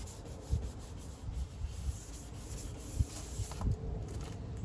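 A part for a 2006 Kia Sportage LX is scuffed by hand, producing quiet, close, uneven rubbing and scraping strokes with small irregular bursts.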